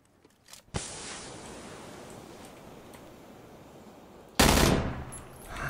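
Automatic gunfire in a Battlegrounds match: a sudden loud crack, then a long sustained roar of rapid shots, and a second loud burst near the end.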